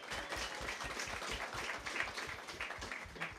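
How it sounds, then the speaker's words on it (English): A morning crowd at a Creative Mornings gathering gives itself a round of applause, fairly faint and a little distant, with scattered claps and a brief whoop over the room. "Maybe just give yourselves like a round of applause for being here this morning."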